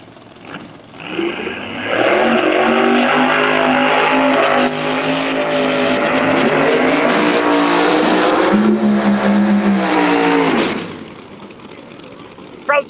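A charger-combination drag racing car in the far lane at a street outlaws invitational roars loudly for about nine seconds, its engine note rising and wavering as it runs down the track, with no talking over it.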